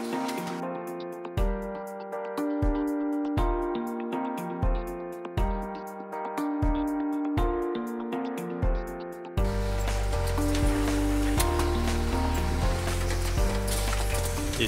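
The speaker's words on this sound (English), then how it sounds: "From there, it goes to our twist knot machines." Osborn twist knot brush-making machine running steadily, with fast repeating mechanical clicks and clatter over a rhythmic thumping cycle, growing denser and louder partway through; close and continuous, with no talk.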